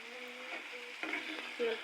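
Green chillies fry in hot oil in a pan, a faint, steady sizzle with a few light clinks over its brief span.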